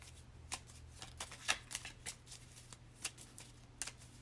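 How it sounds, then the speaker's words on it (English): Tarot deck being shuffled by hand, a quiet close series of crisp riffling and slapping card bursts at an irregular rhythm over a low steady hum. "Sometimes the cards just want to like shuffle forever."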